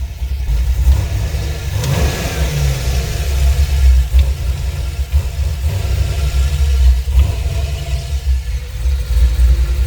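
A car engine revving with a recurring abnormal noise, a loud low rumble that rises and falls steadily with no talking.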